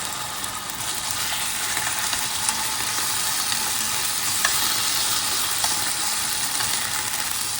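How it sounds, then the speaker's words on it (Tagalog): Pork strips fry in a little oil in a pan, producing a loud, continuous, even sizzle close up, with occasional faint clicks and no talking. "And then sa kawali, maglagay tayo ng konting oil. And then ilalagay na natin yung ating pork."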